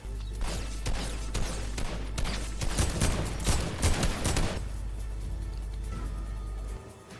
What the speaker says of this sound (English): Guys are shooting at us.